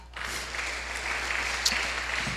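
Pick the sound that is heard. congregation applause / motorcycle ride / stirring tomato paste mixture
congregation applause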